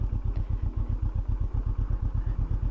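A Royal Enfield Himalayan 822cc parallel twin motorcycle running just after starting, a close, loud rhythmic low thumping idle with even, rapid pulses throughout.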